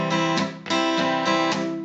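An acoustic guitar is played with cutting strums damped near the bridge instead of the sound hole, giving a muddy, ringing tone. About four close, loud strokes come in a steady rhythm.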